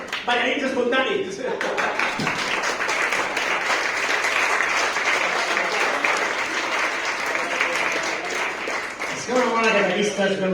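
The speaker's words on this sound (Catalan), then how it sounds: "Aplaudiment pels ballarins espontanis" A concert audience at Cal Calissó in Castellar del Vallès bursts into loud, dense applause for spontaneous dancers. The clapping holds steady for several seconds, with singing or speech just before it starts and as it fades.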